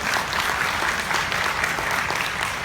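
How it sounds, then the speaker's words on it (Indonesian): An audience breaks into dense, steady applause at an inspirational talk, the clapping loud and continuous throughout. "Tepuk tangan buat teman-teman semuanya."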